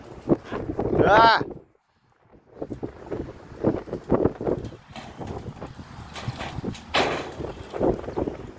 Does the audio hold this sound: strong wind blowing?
yes